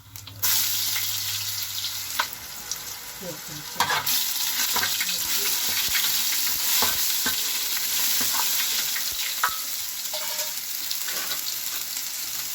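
Ginger garlic paste sizzles loudly in hot oil with cinnamon and cumin for a dum biryani, a constant close frying hiss broken by scrapes and taps of a stirring spoon.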